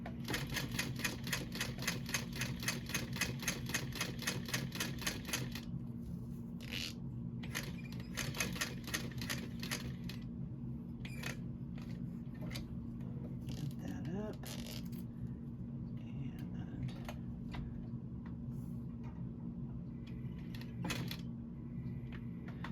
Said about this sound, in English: That's why I love the cylinder arm, because it does 1 stitch at a time.